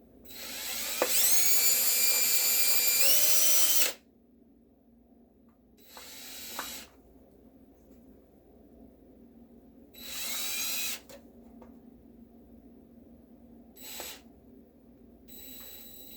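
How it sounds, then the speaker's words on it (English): Power drill with a 3/16 bit boring holes in a plastic headlight housing: a loud whining run of about three seconds, then several shorter high-pitched bursts separated by quiet pauses, with no speech. "we are going to drill out these 4 holes"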